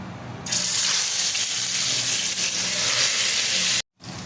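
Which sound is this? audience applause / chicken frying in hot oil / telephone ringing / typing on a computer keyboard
chicken frying in hot oil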